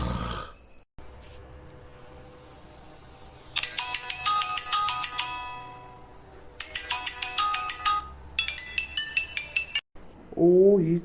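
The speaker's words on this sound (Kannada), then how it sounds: "ಫೋನ್ ಬಂದಂಗಾಗ್ತಿದೆ" A mobile phone ringtone rings indoors in repeated bright melodic bursts separated by short pauses, loud and close, with faint clinks of glass or dishes in the background.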